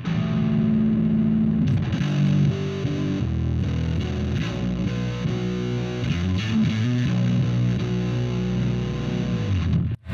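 A bass guitar played through a Teisco distortion pedal gives a loud, continuous, snarling and fuzzy tone, with thick harmonics over a deep low end as the notes shift, and cuts off abruptly at the end.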